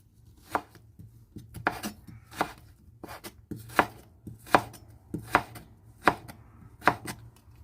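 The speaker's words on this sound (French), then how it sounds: "Je coupe en petits morceaux, haché finement, carottes" Carrots being finely chopped with a knife on a board, a series of crisp close knocks in a loose, uneven rhythm, clear against a quiet background.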